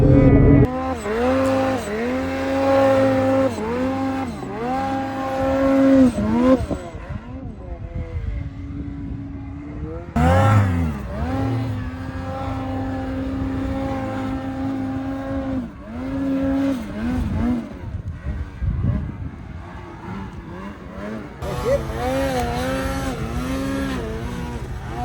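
A snowmobile engine revs hard in deep powder, whining up and down in pitch through repeated surges and throttle dips. Loud and close for about 25 seconds, with voices heard at times.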